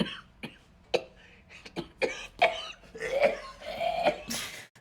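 Someone coughs repeatedly in a scene from the crime drama Breaking Bad: a series of sharp, close, harsh coughs in an irregular rhythm that build into a longer rough fit near the end.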